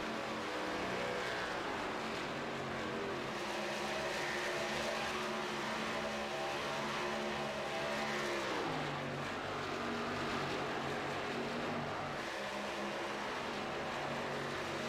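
Race cars in the A51 Community 125 race at Texas, an eSpeed Sport sim event, give a steady, layered engine drone of several cars running together, with pitch shifting slightly as they pass, and no talk over it.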